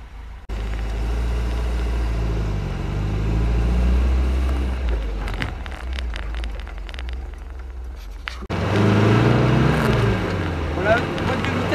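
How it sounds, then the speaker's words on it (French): A 1966 MG B's engine drones steadily as the car drives along the road, a low continuous rumble that shifts in pitch, with a louder burst of wind and road noise near the end. "Vous allez comme ça entendre un petit peu le bruit du moteur."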